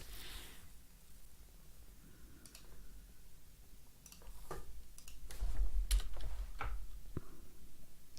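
Typing on a computer keyboard while coding, with scattered soft key clicks at a close distance that cluster more densely toward the end.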